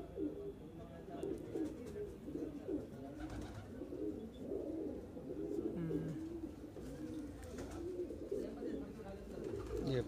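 Madrasi pigeons at a loft in Delhi cooing in soft, repeated low throaty calls, close and continuous, with faint chirps and background noise around them.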